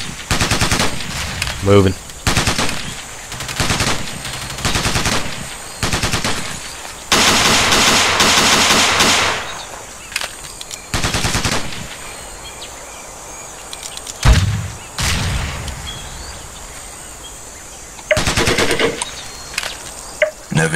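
Enemy gunfire in a Ghost Recon SEALS mission rattles out in repeated loud automatic bursts separated by short lulls, with a brief spoken word from a player in between.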